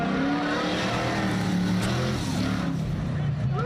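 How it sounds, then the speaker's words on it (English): Race car on a dirt oval track braking early into a turn, a loud continuous engine roar with tire scrub, close by and dominating, with a commentator's voice faintly underneath. "you can hear him getting on the brakes early"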